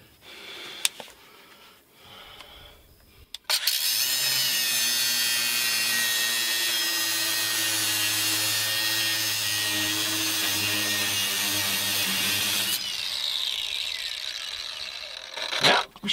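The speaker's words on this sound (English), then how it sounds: "Let's see if we can cut that nut off of there." A power tool cuts a nut off the bed of a 1979 GMC truck, a loud, steady whining grind that holds for about nine seconds before winding down, with a few clanks before and after.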